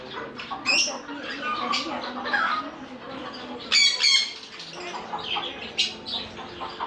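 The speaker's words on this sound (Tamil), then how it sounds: "எல்லாம் சின்ன சின்ன குருவி, சிட்டுக்குருவி மாதிரி இருக்குது, அழகாக இருக்குது பார்க்குறதுக்கு" Small caged pet birds such as sparrows chirp and squawk in busy overlapping bursts, moderately close, with human voices talking in the background.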